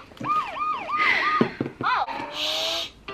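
A toy siren wails in quick rising-and-falling electronic whoops, close and fairly loud, followed by a short burst of electronic beeping.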